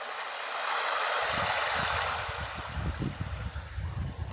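Shallow river in Braemar flowing beneath a bridge, a soft, continuous watery rush and hiss, joined midway by low, uneven bumps and knocks close by.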